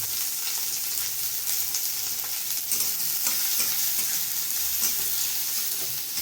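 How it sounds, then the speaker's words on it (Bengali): Onion, garlic and green chilli frying in hot oil in a pan: a steady, close, loud sizzle with crackling spatter and occasional stirring scrapes throughout. "তেলের মধ্যে দিয়ে দেবো পেঁয়াজ, দিয়ে দেবো একটা কাঁচা রসুন, কাঁচা লঙ্কা,"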